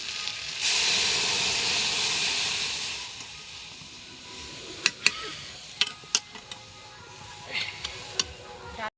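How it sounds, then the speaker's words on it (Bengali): Lentils poured into hot oil tempered with cumin, bay leaf and paste, bursting into a loud, steady sizzle that fades after a few seconds, followed by scattered ticks and clinks of a utensil against the pan. "ডালটা এর মধ্যে ঢেলে দেবো।"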